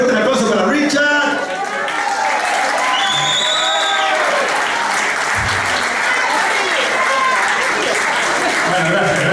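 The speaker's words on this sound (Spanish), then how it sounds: "fuerte el aplauso para Richard." Loud applause and cheering at a rock show, a crowd clapping continuously with shouts and voices over it, close and full for the whole stretch.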